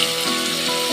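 Tomatoes hit hot oil in a frying pan while cooking tomato bath, a bright, dense sizzle that hisses continuously and close up with no talking.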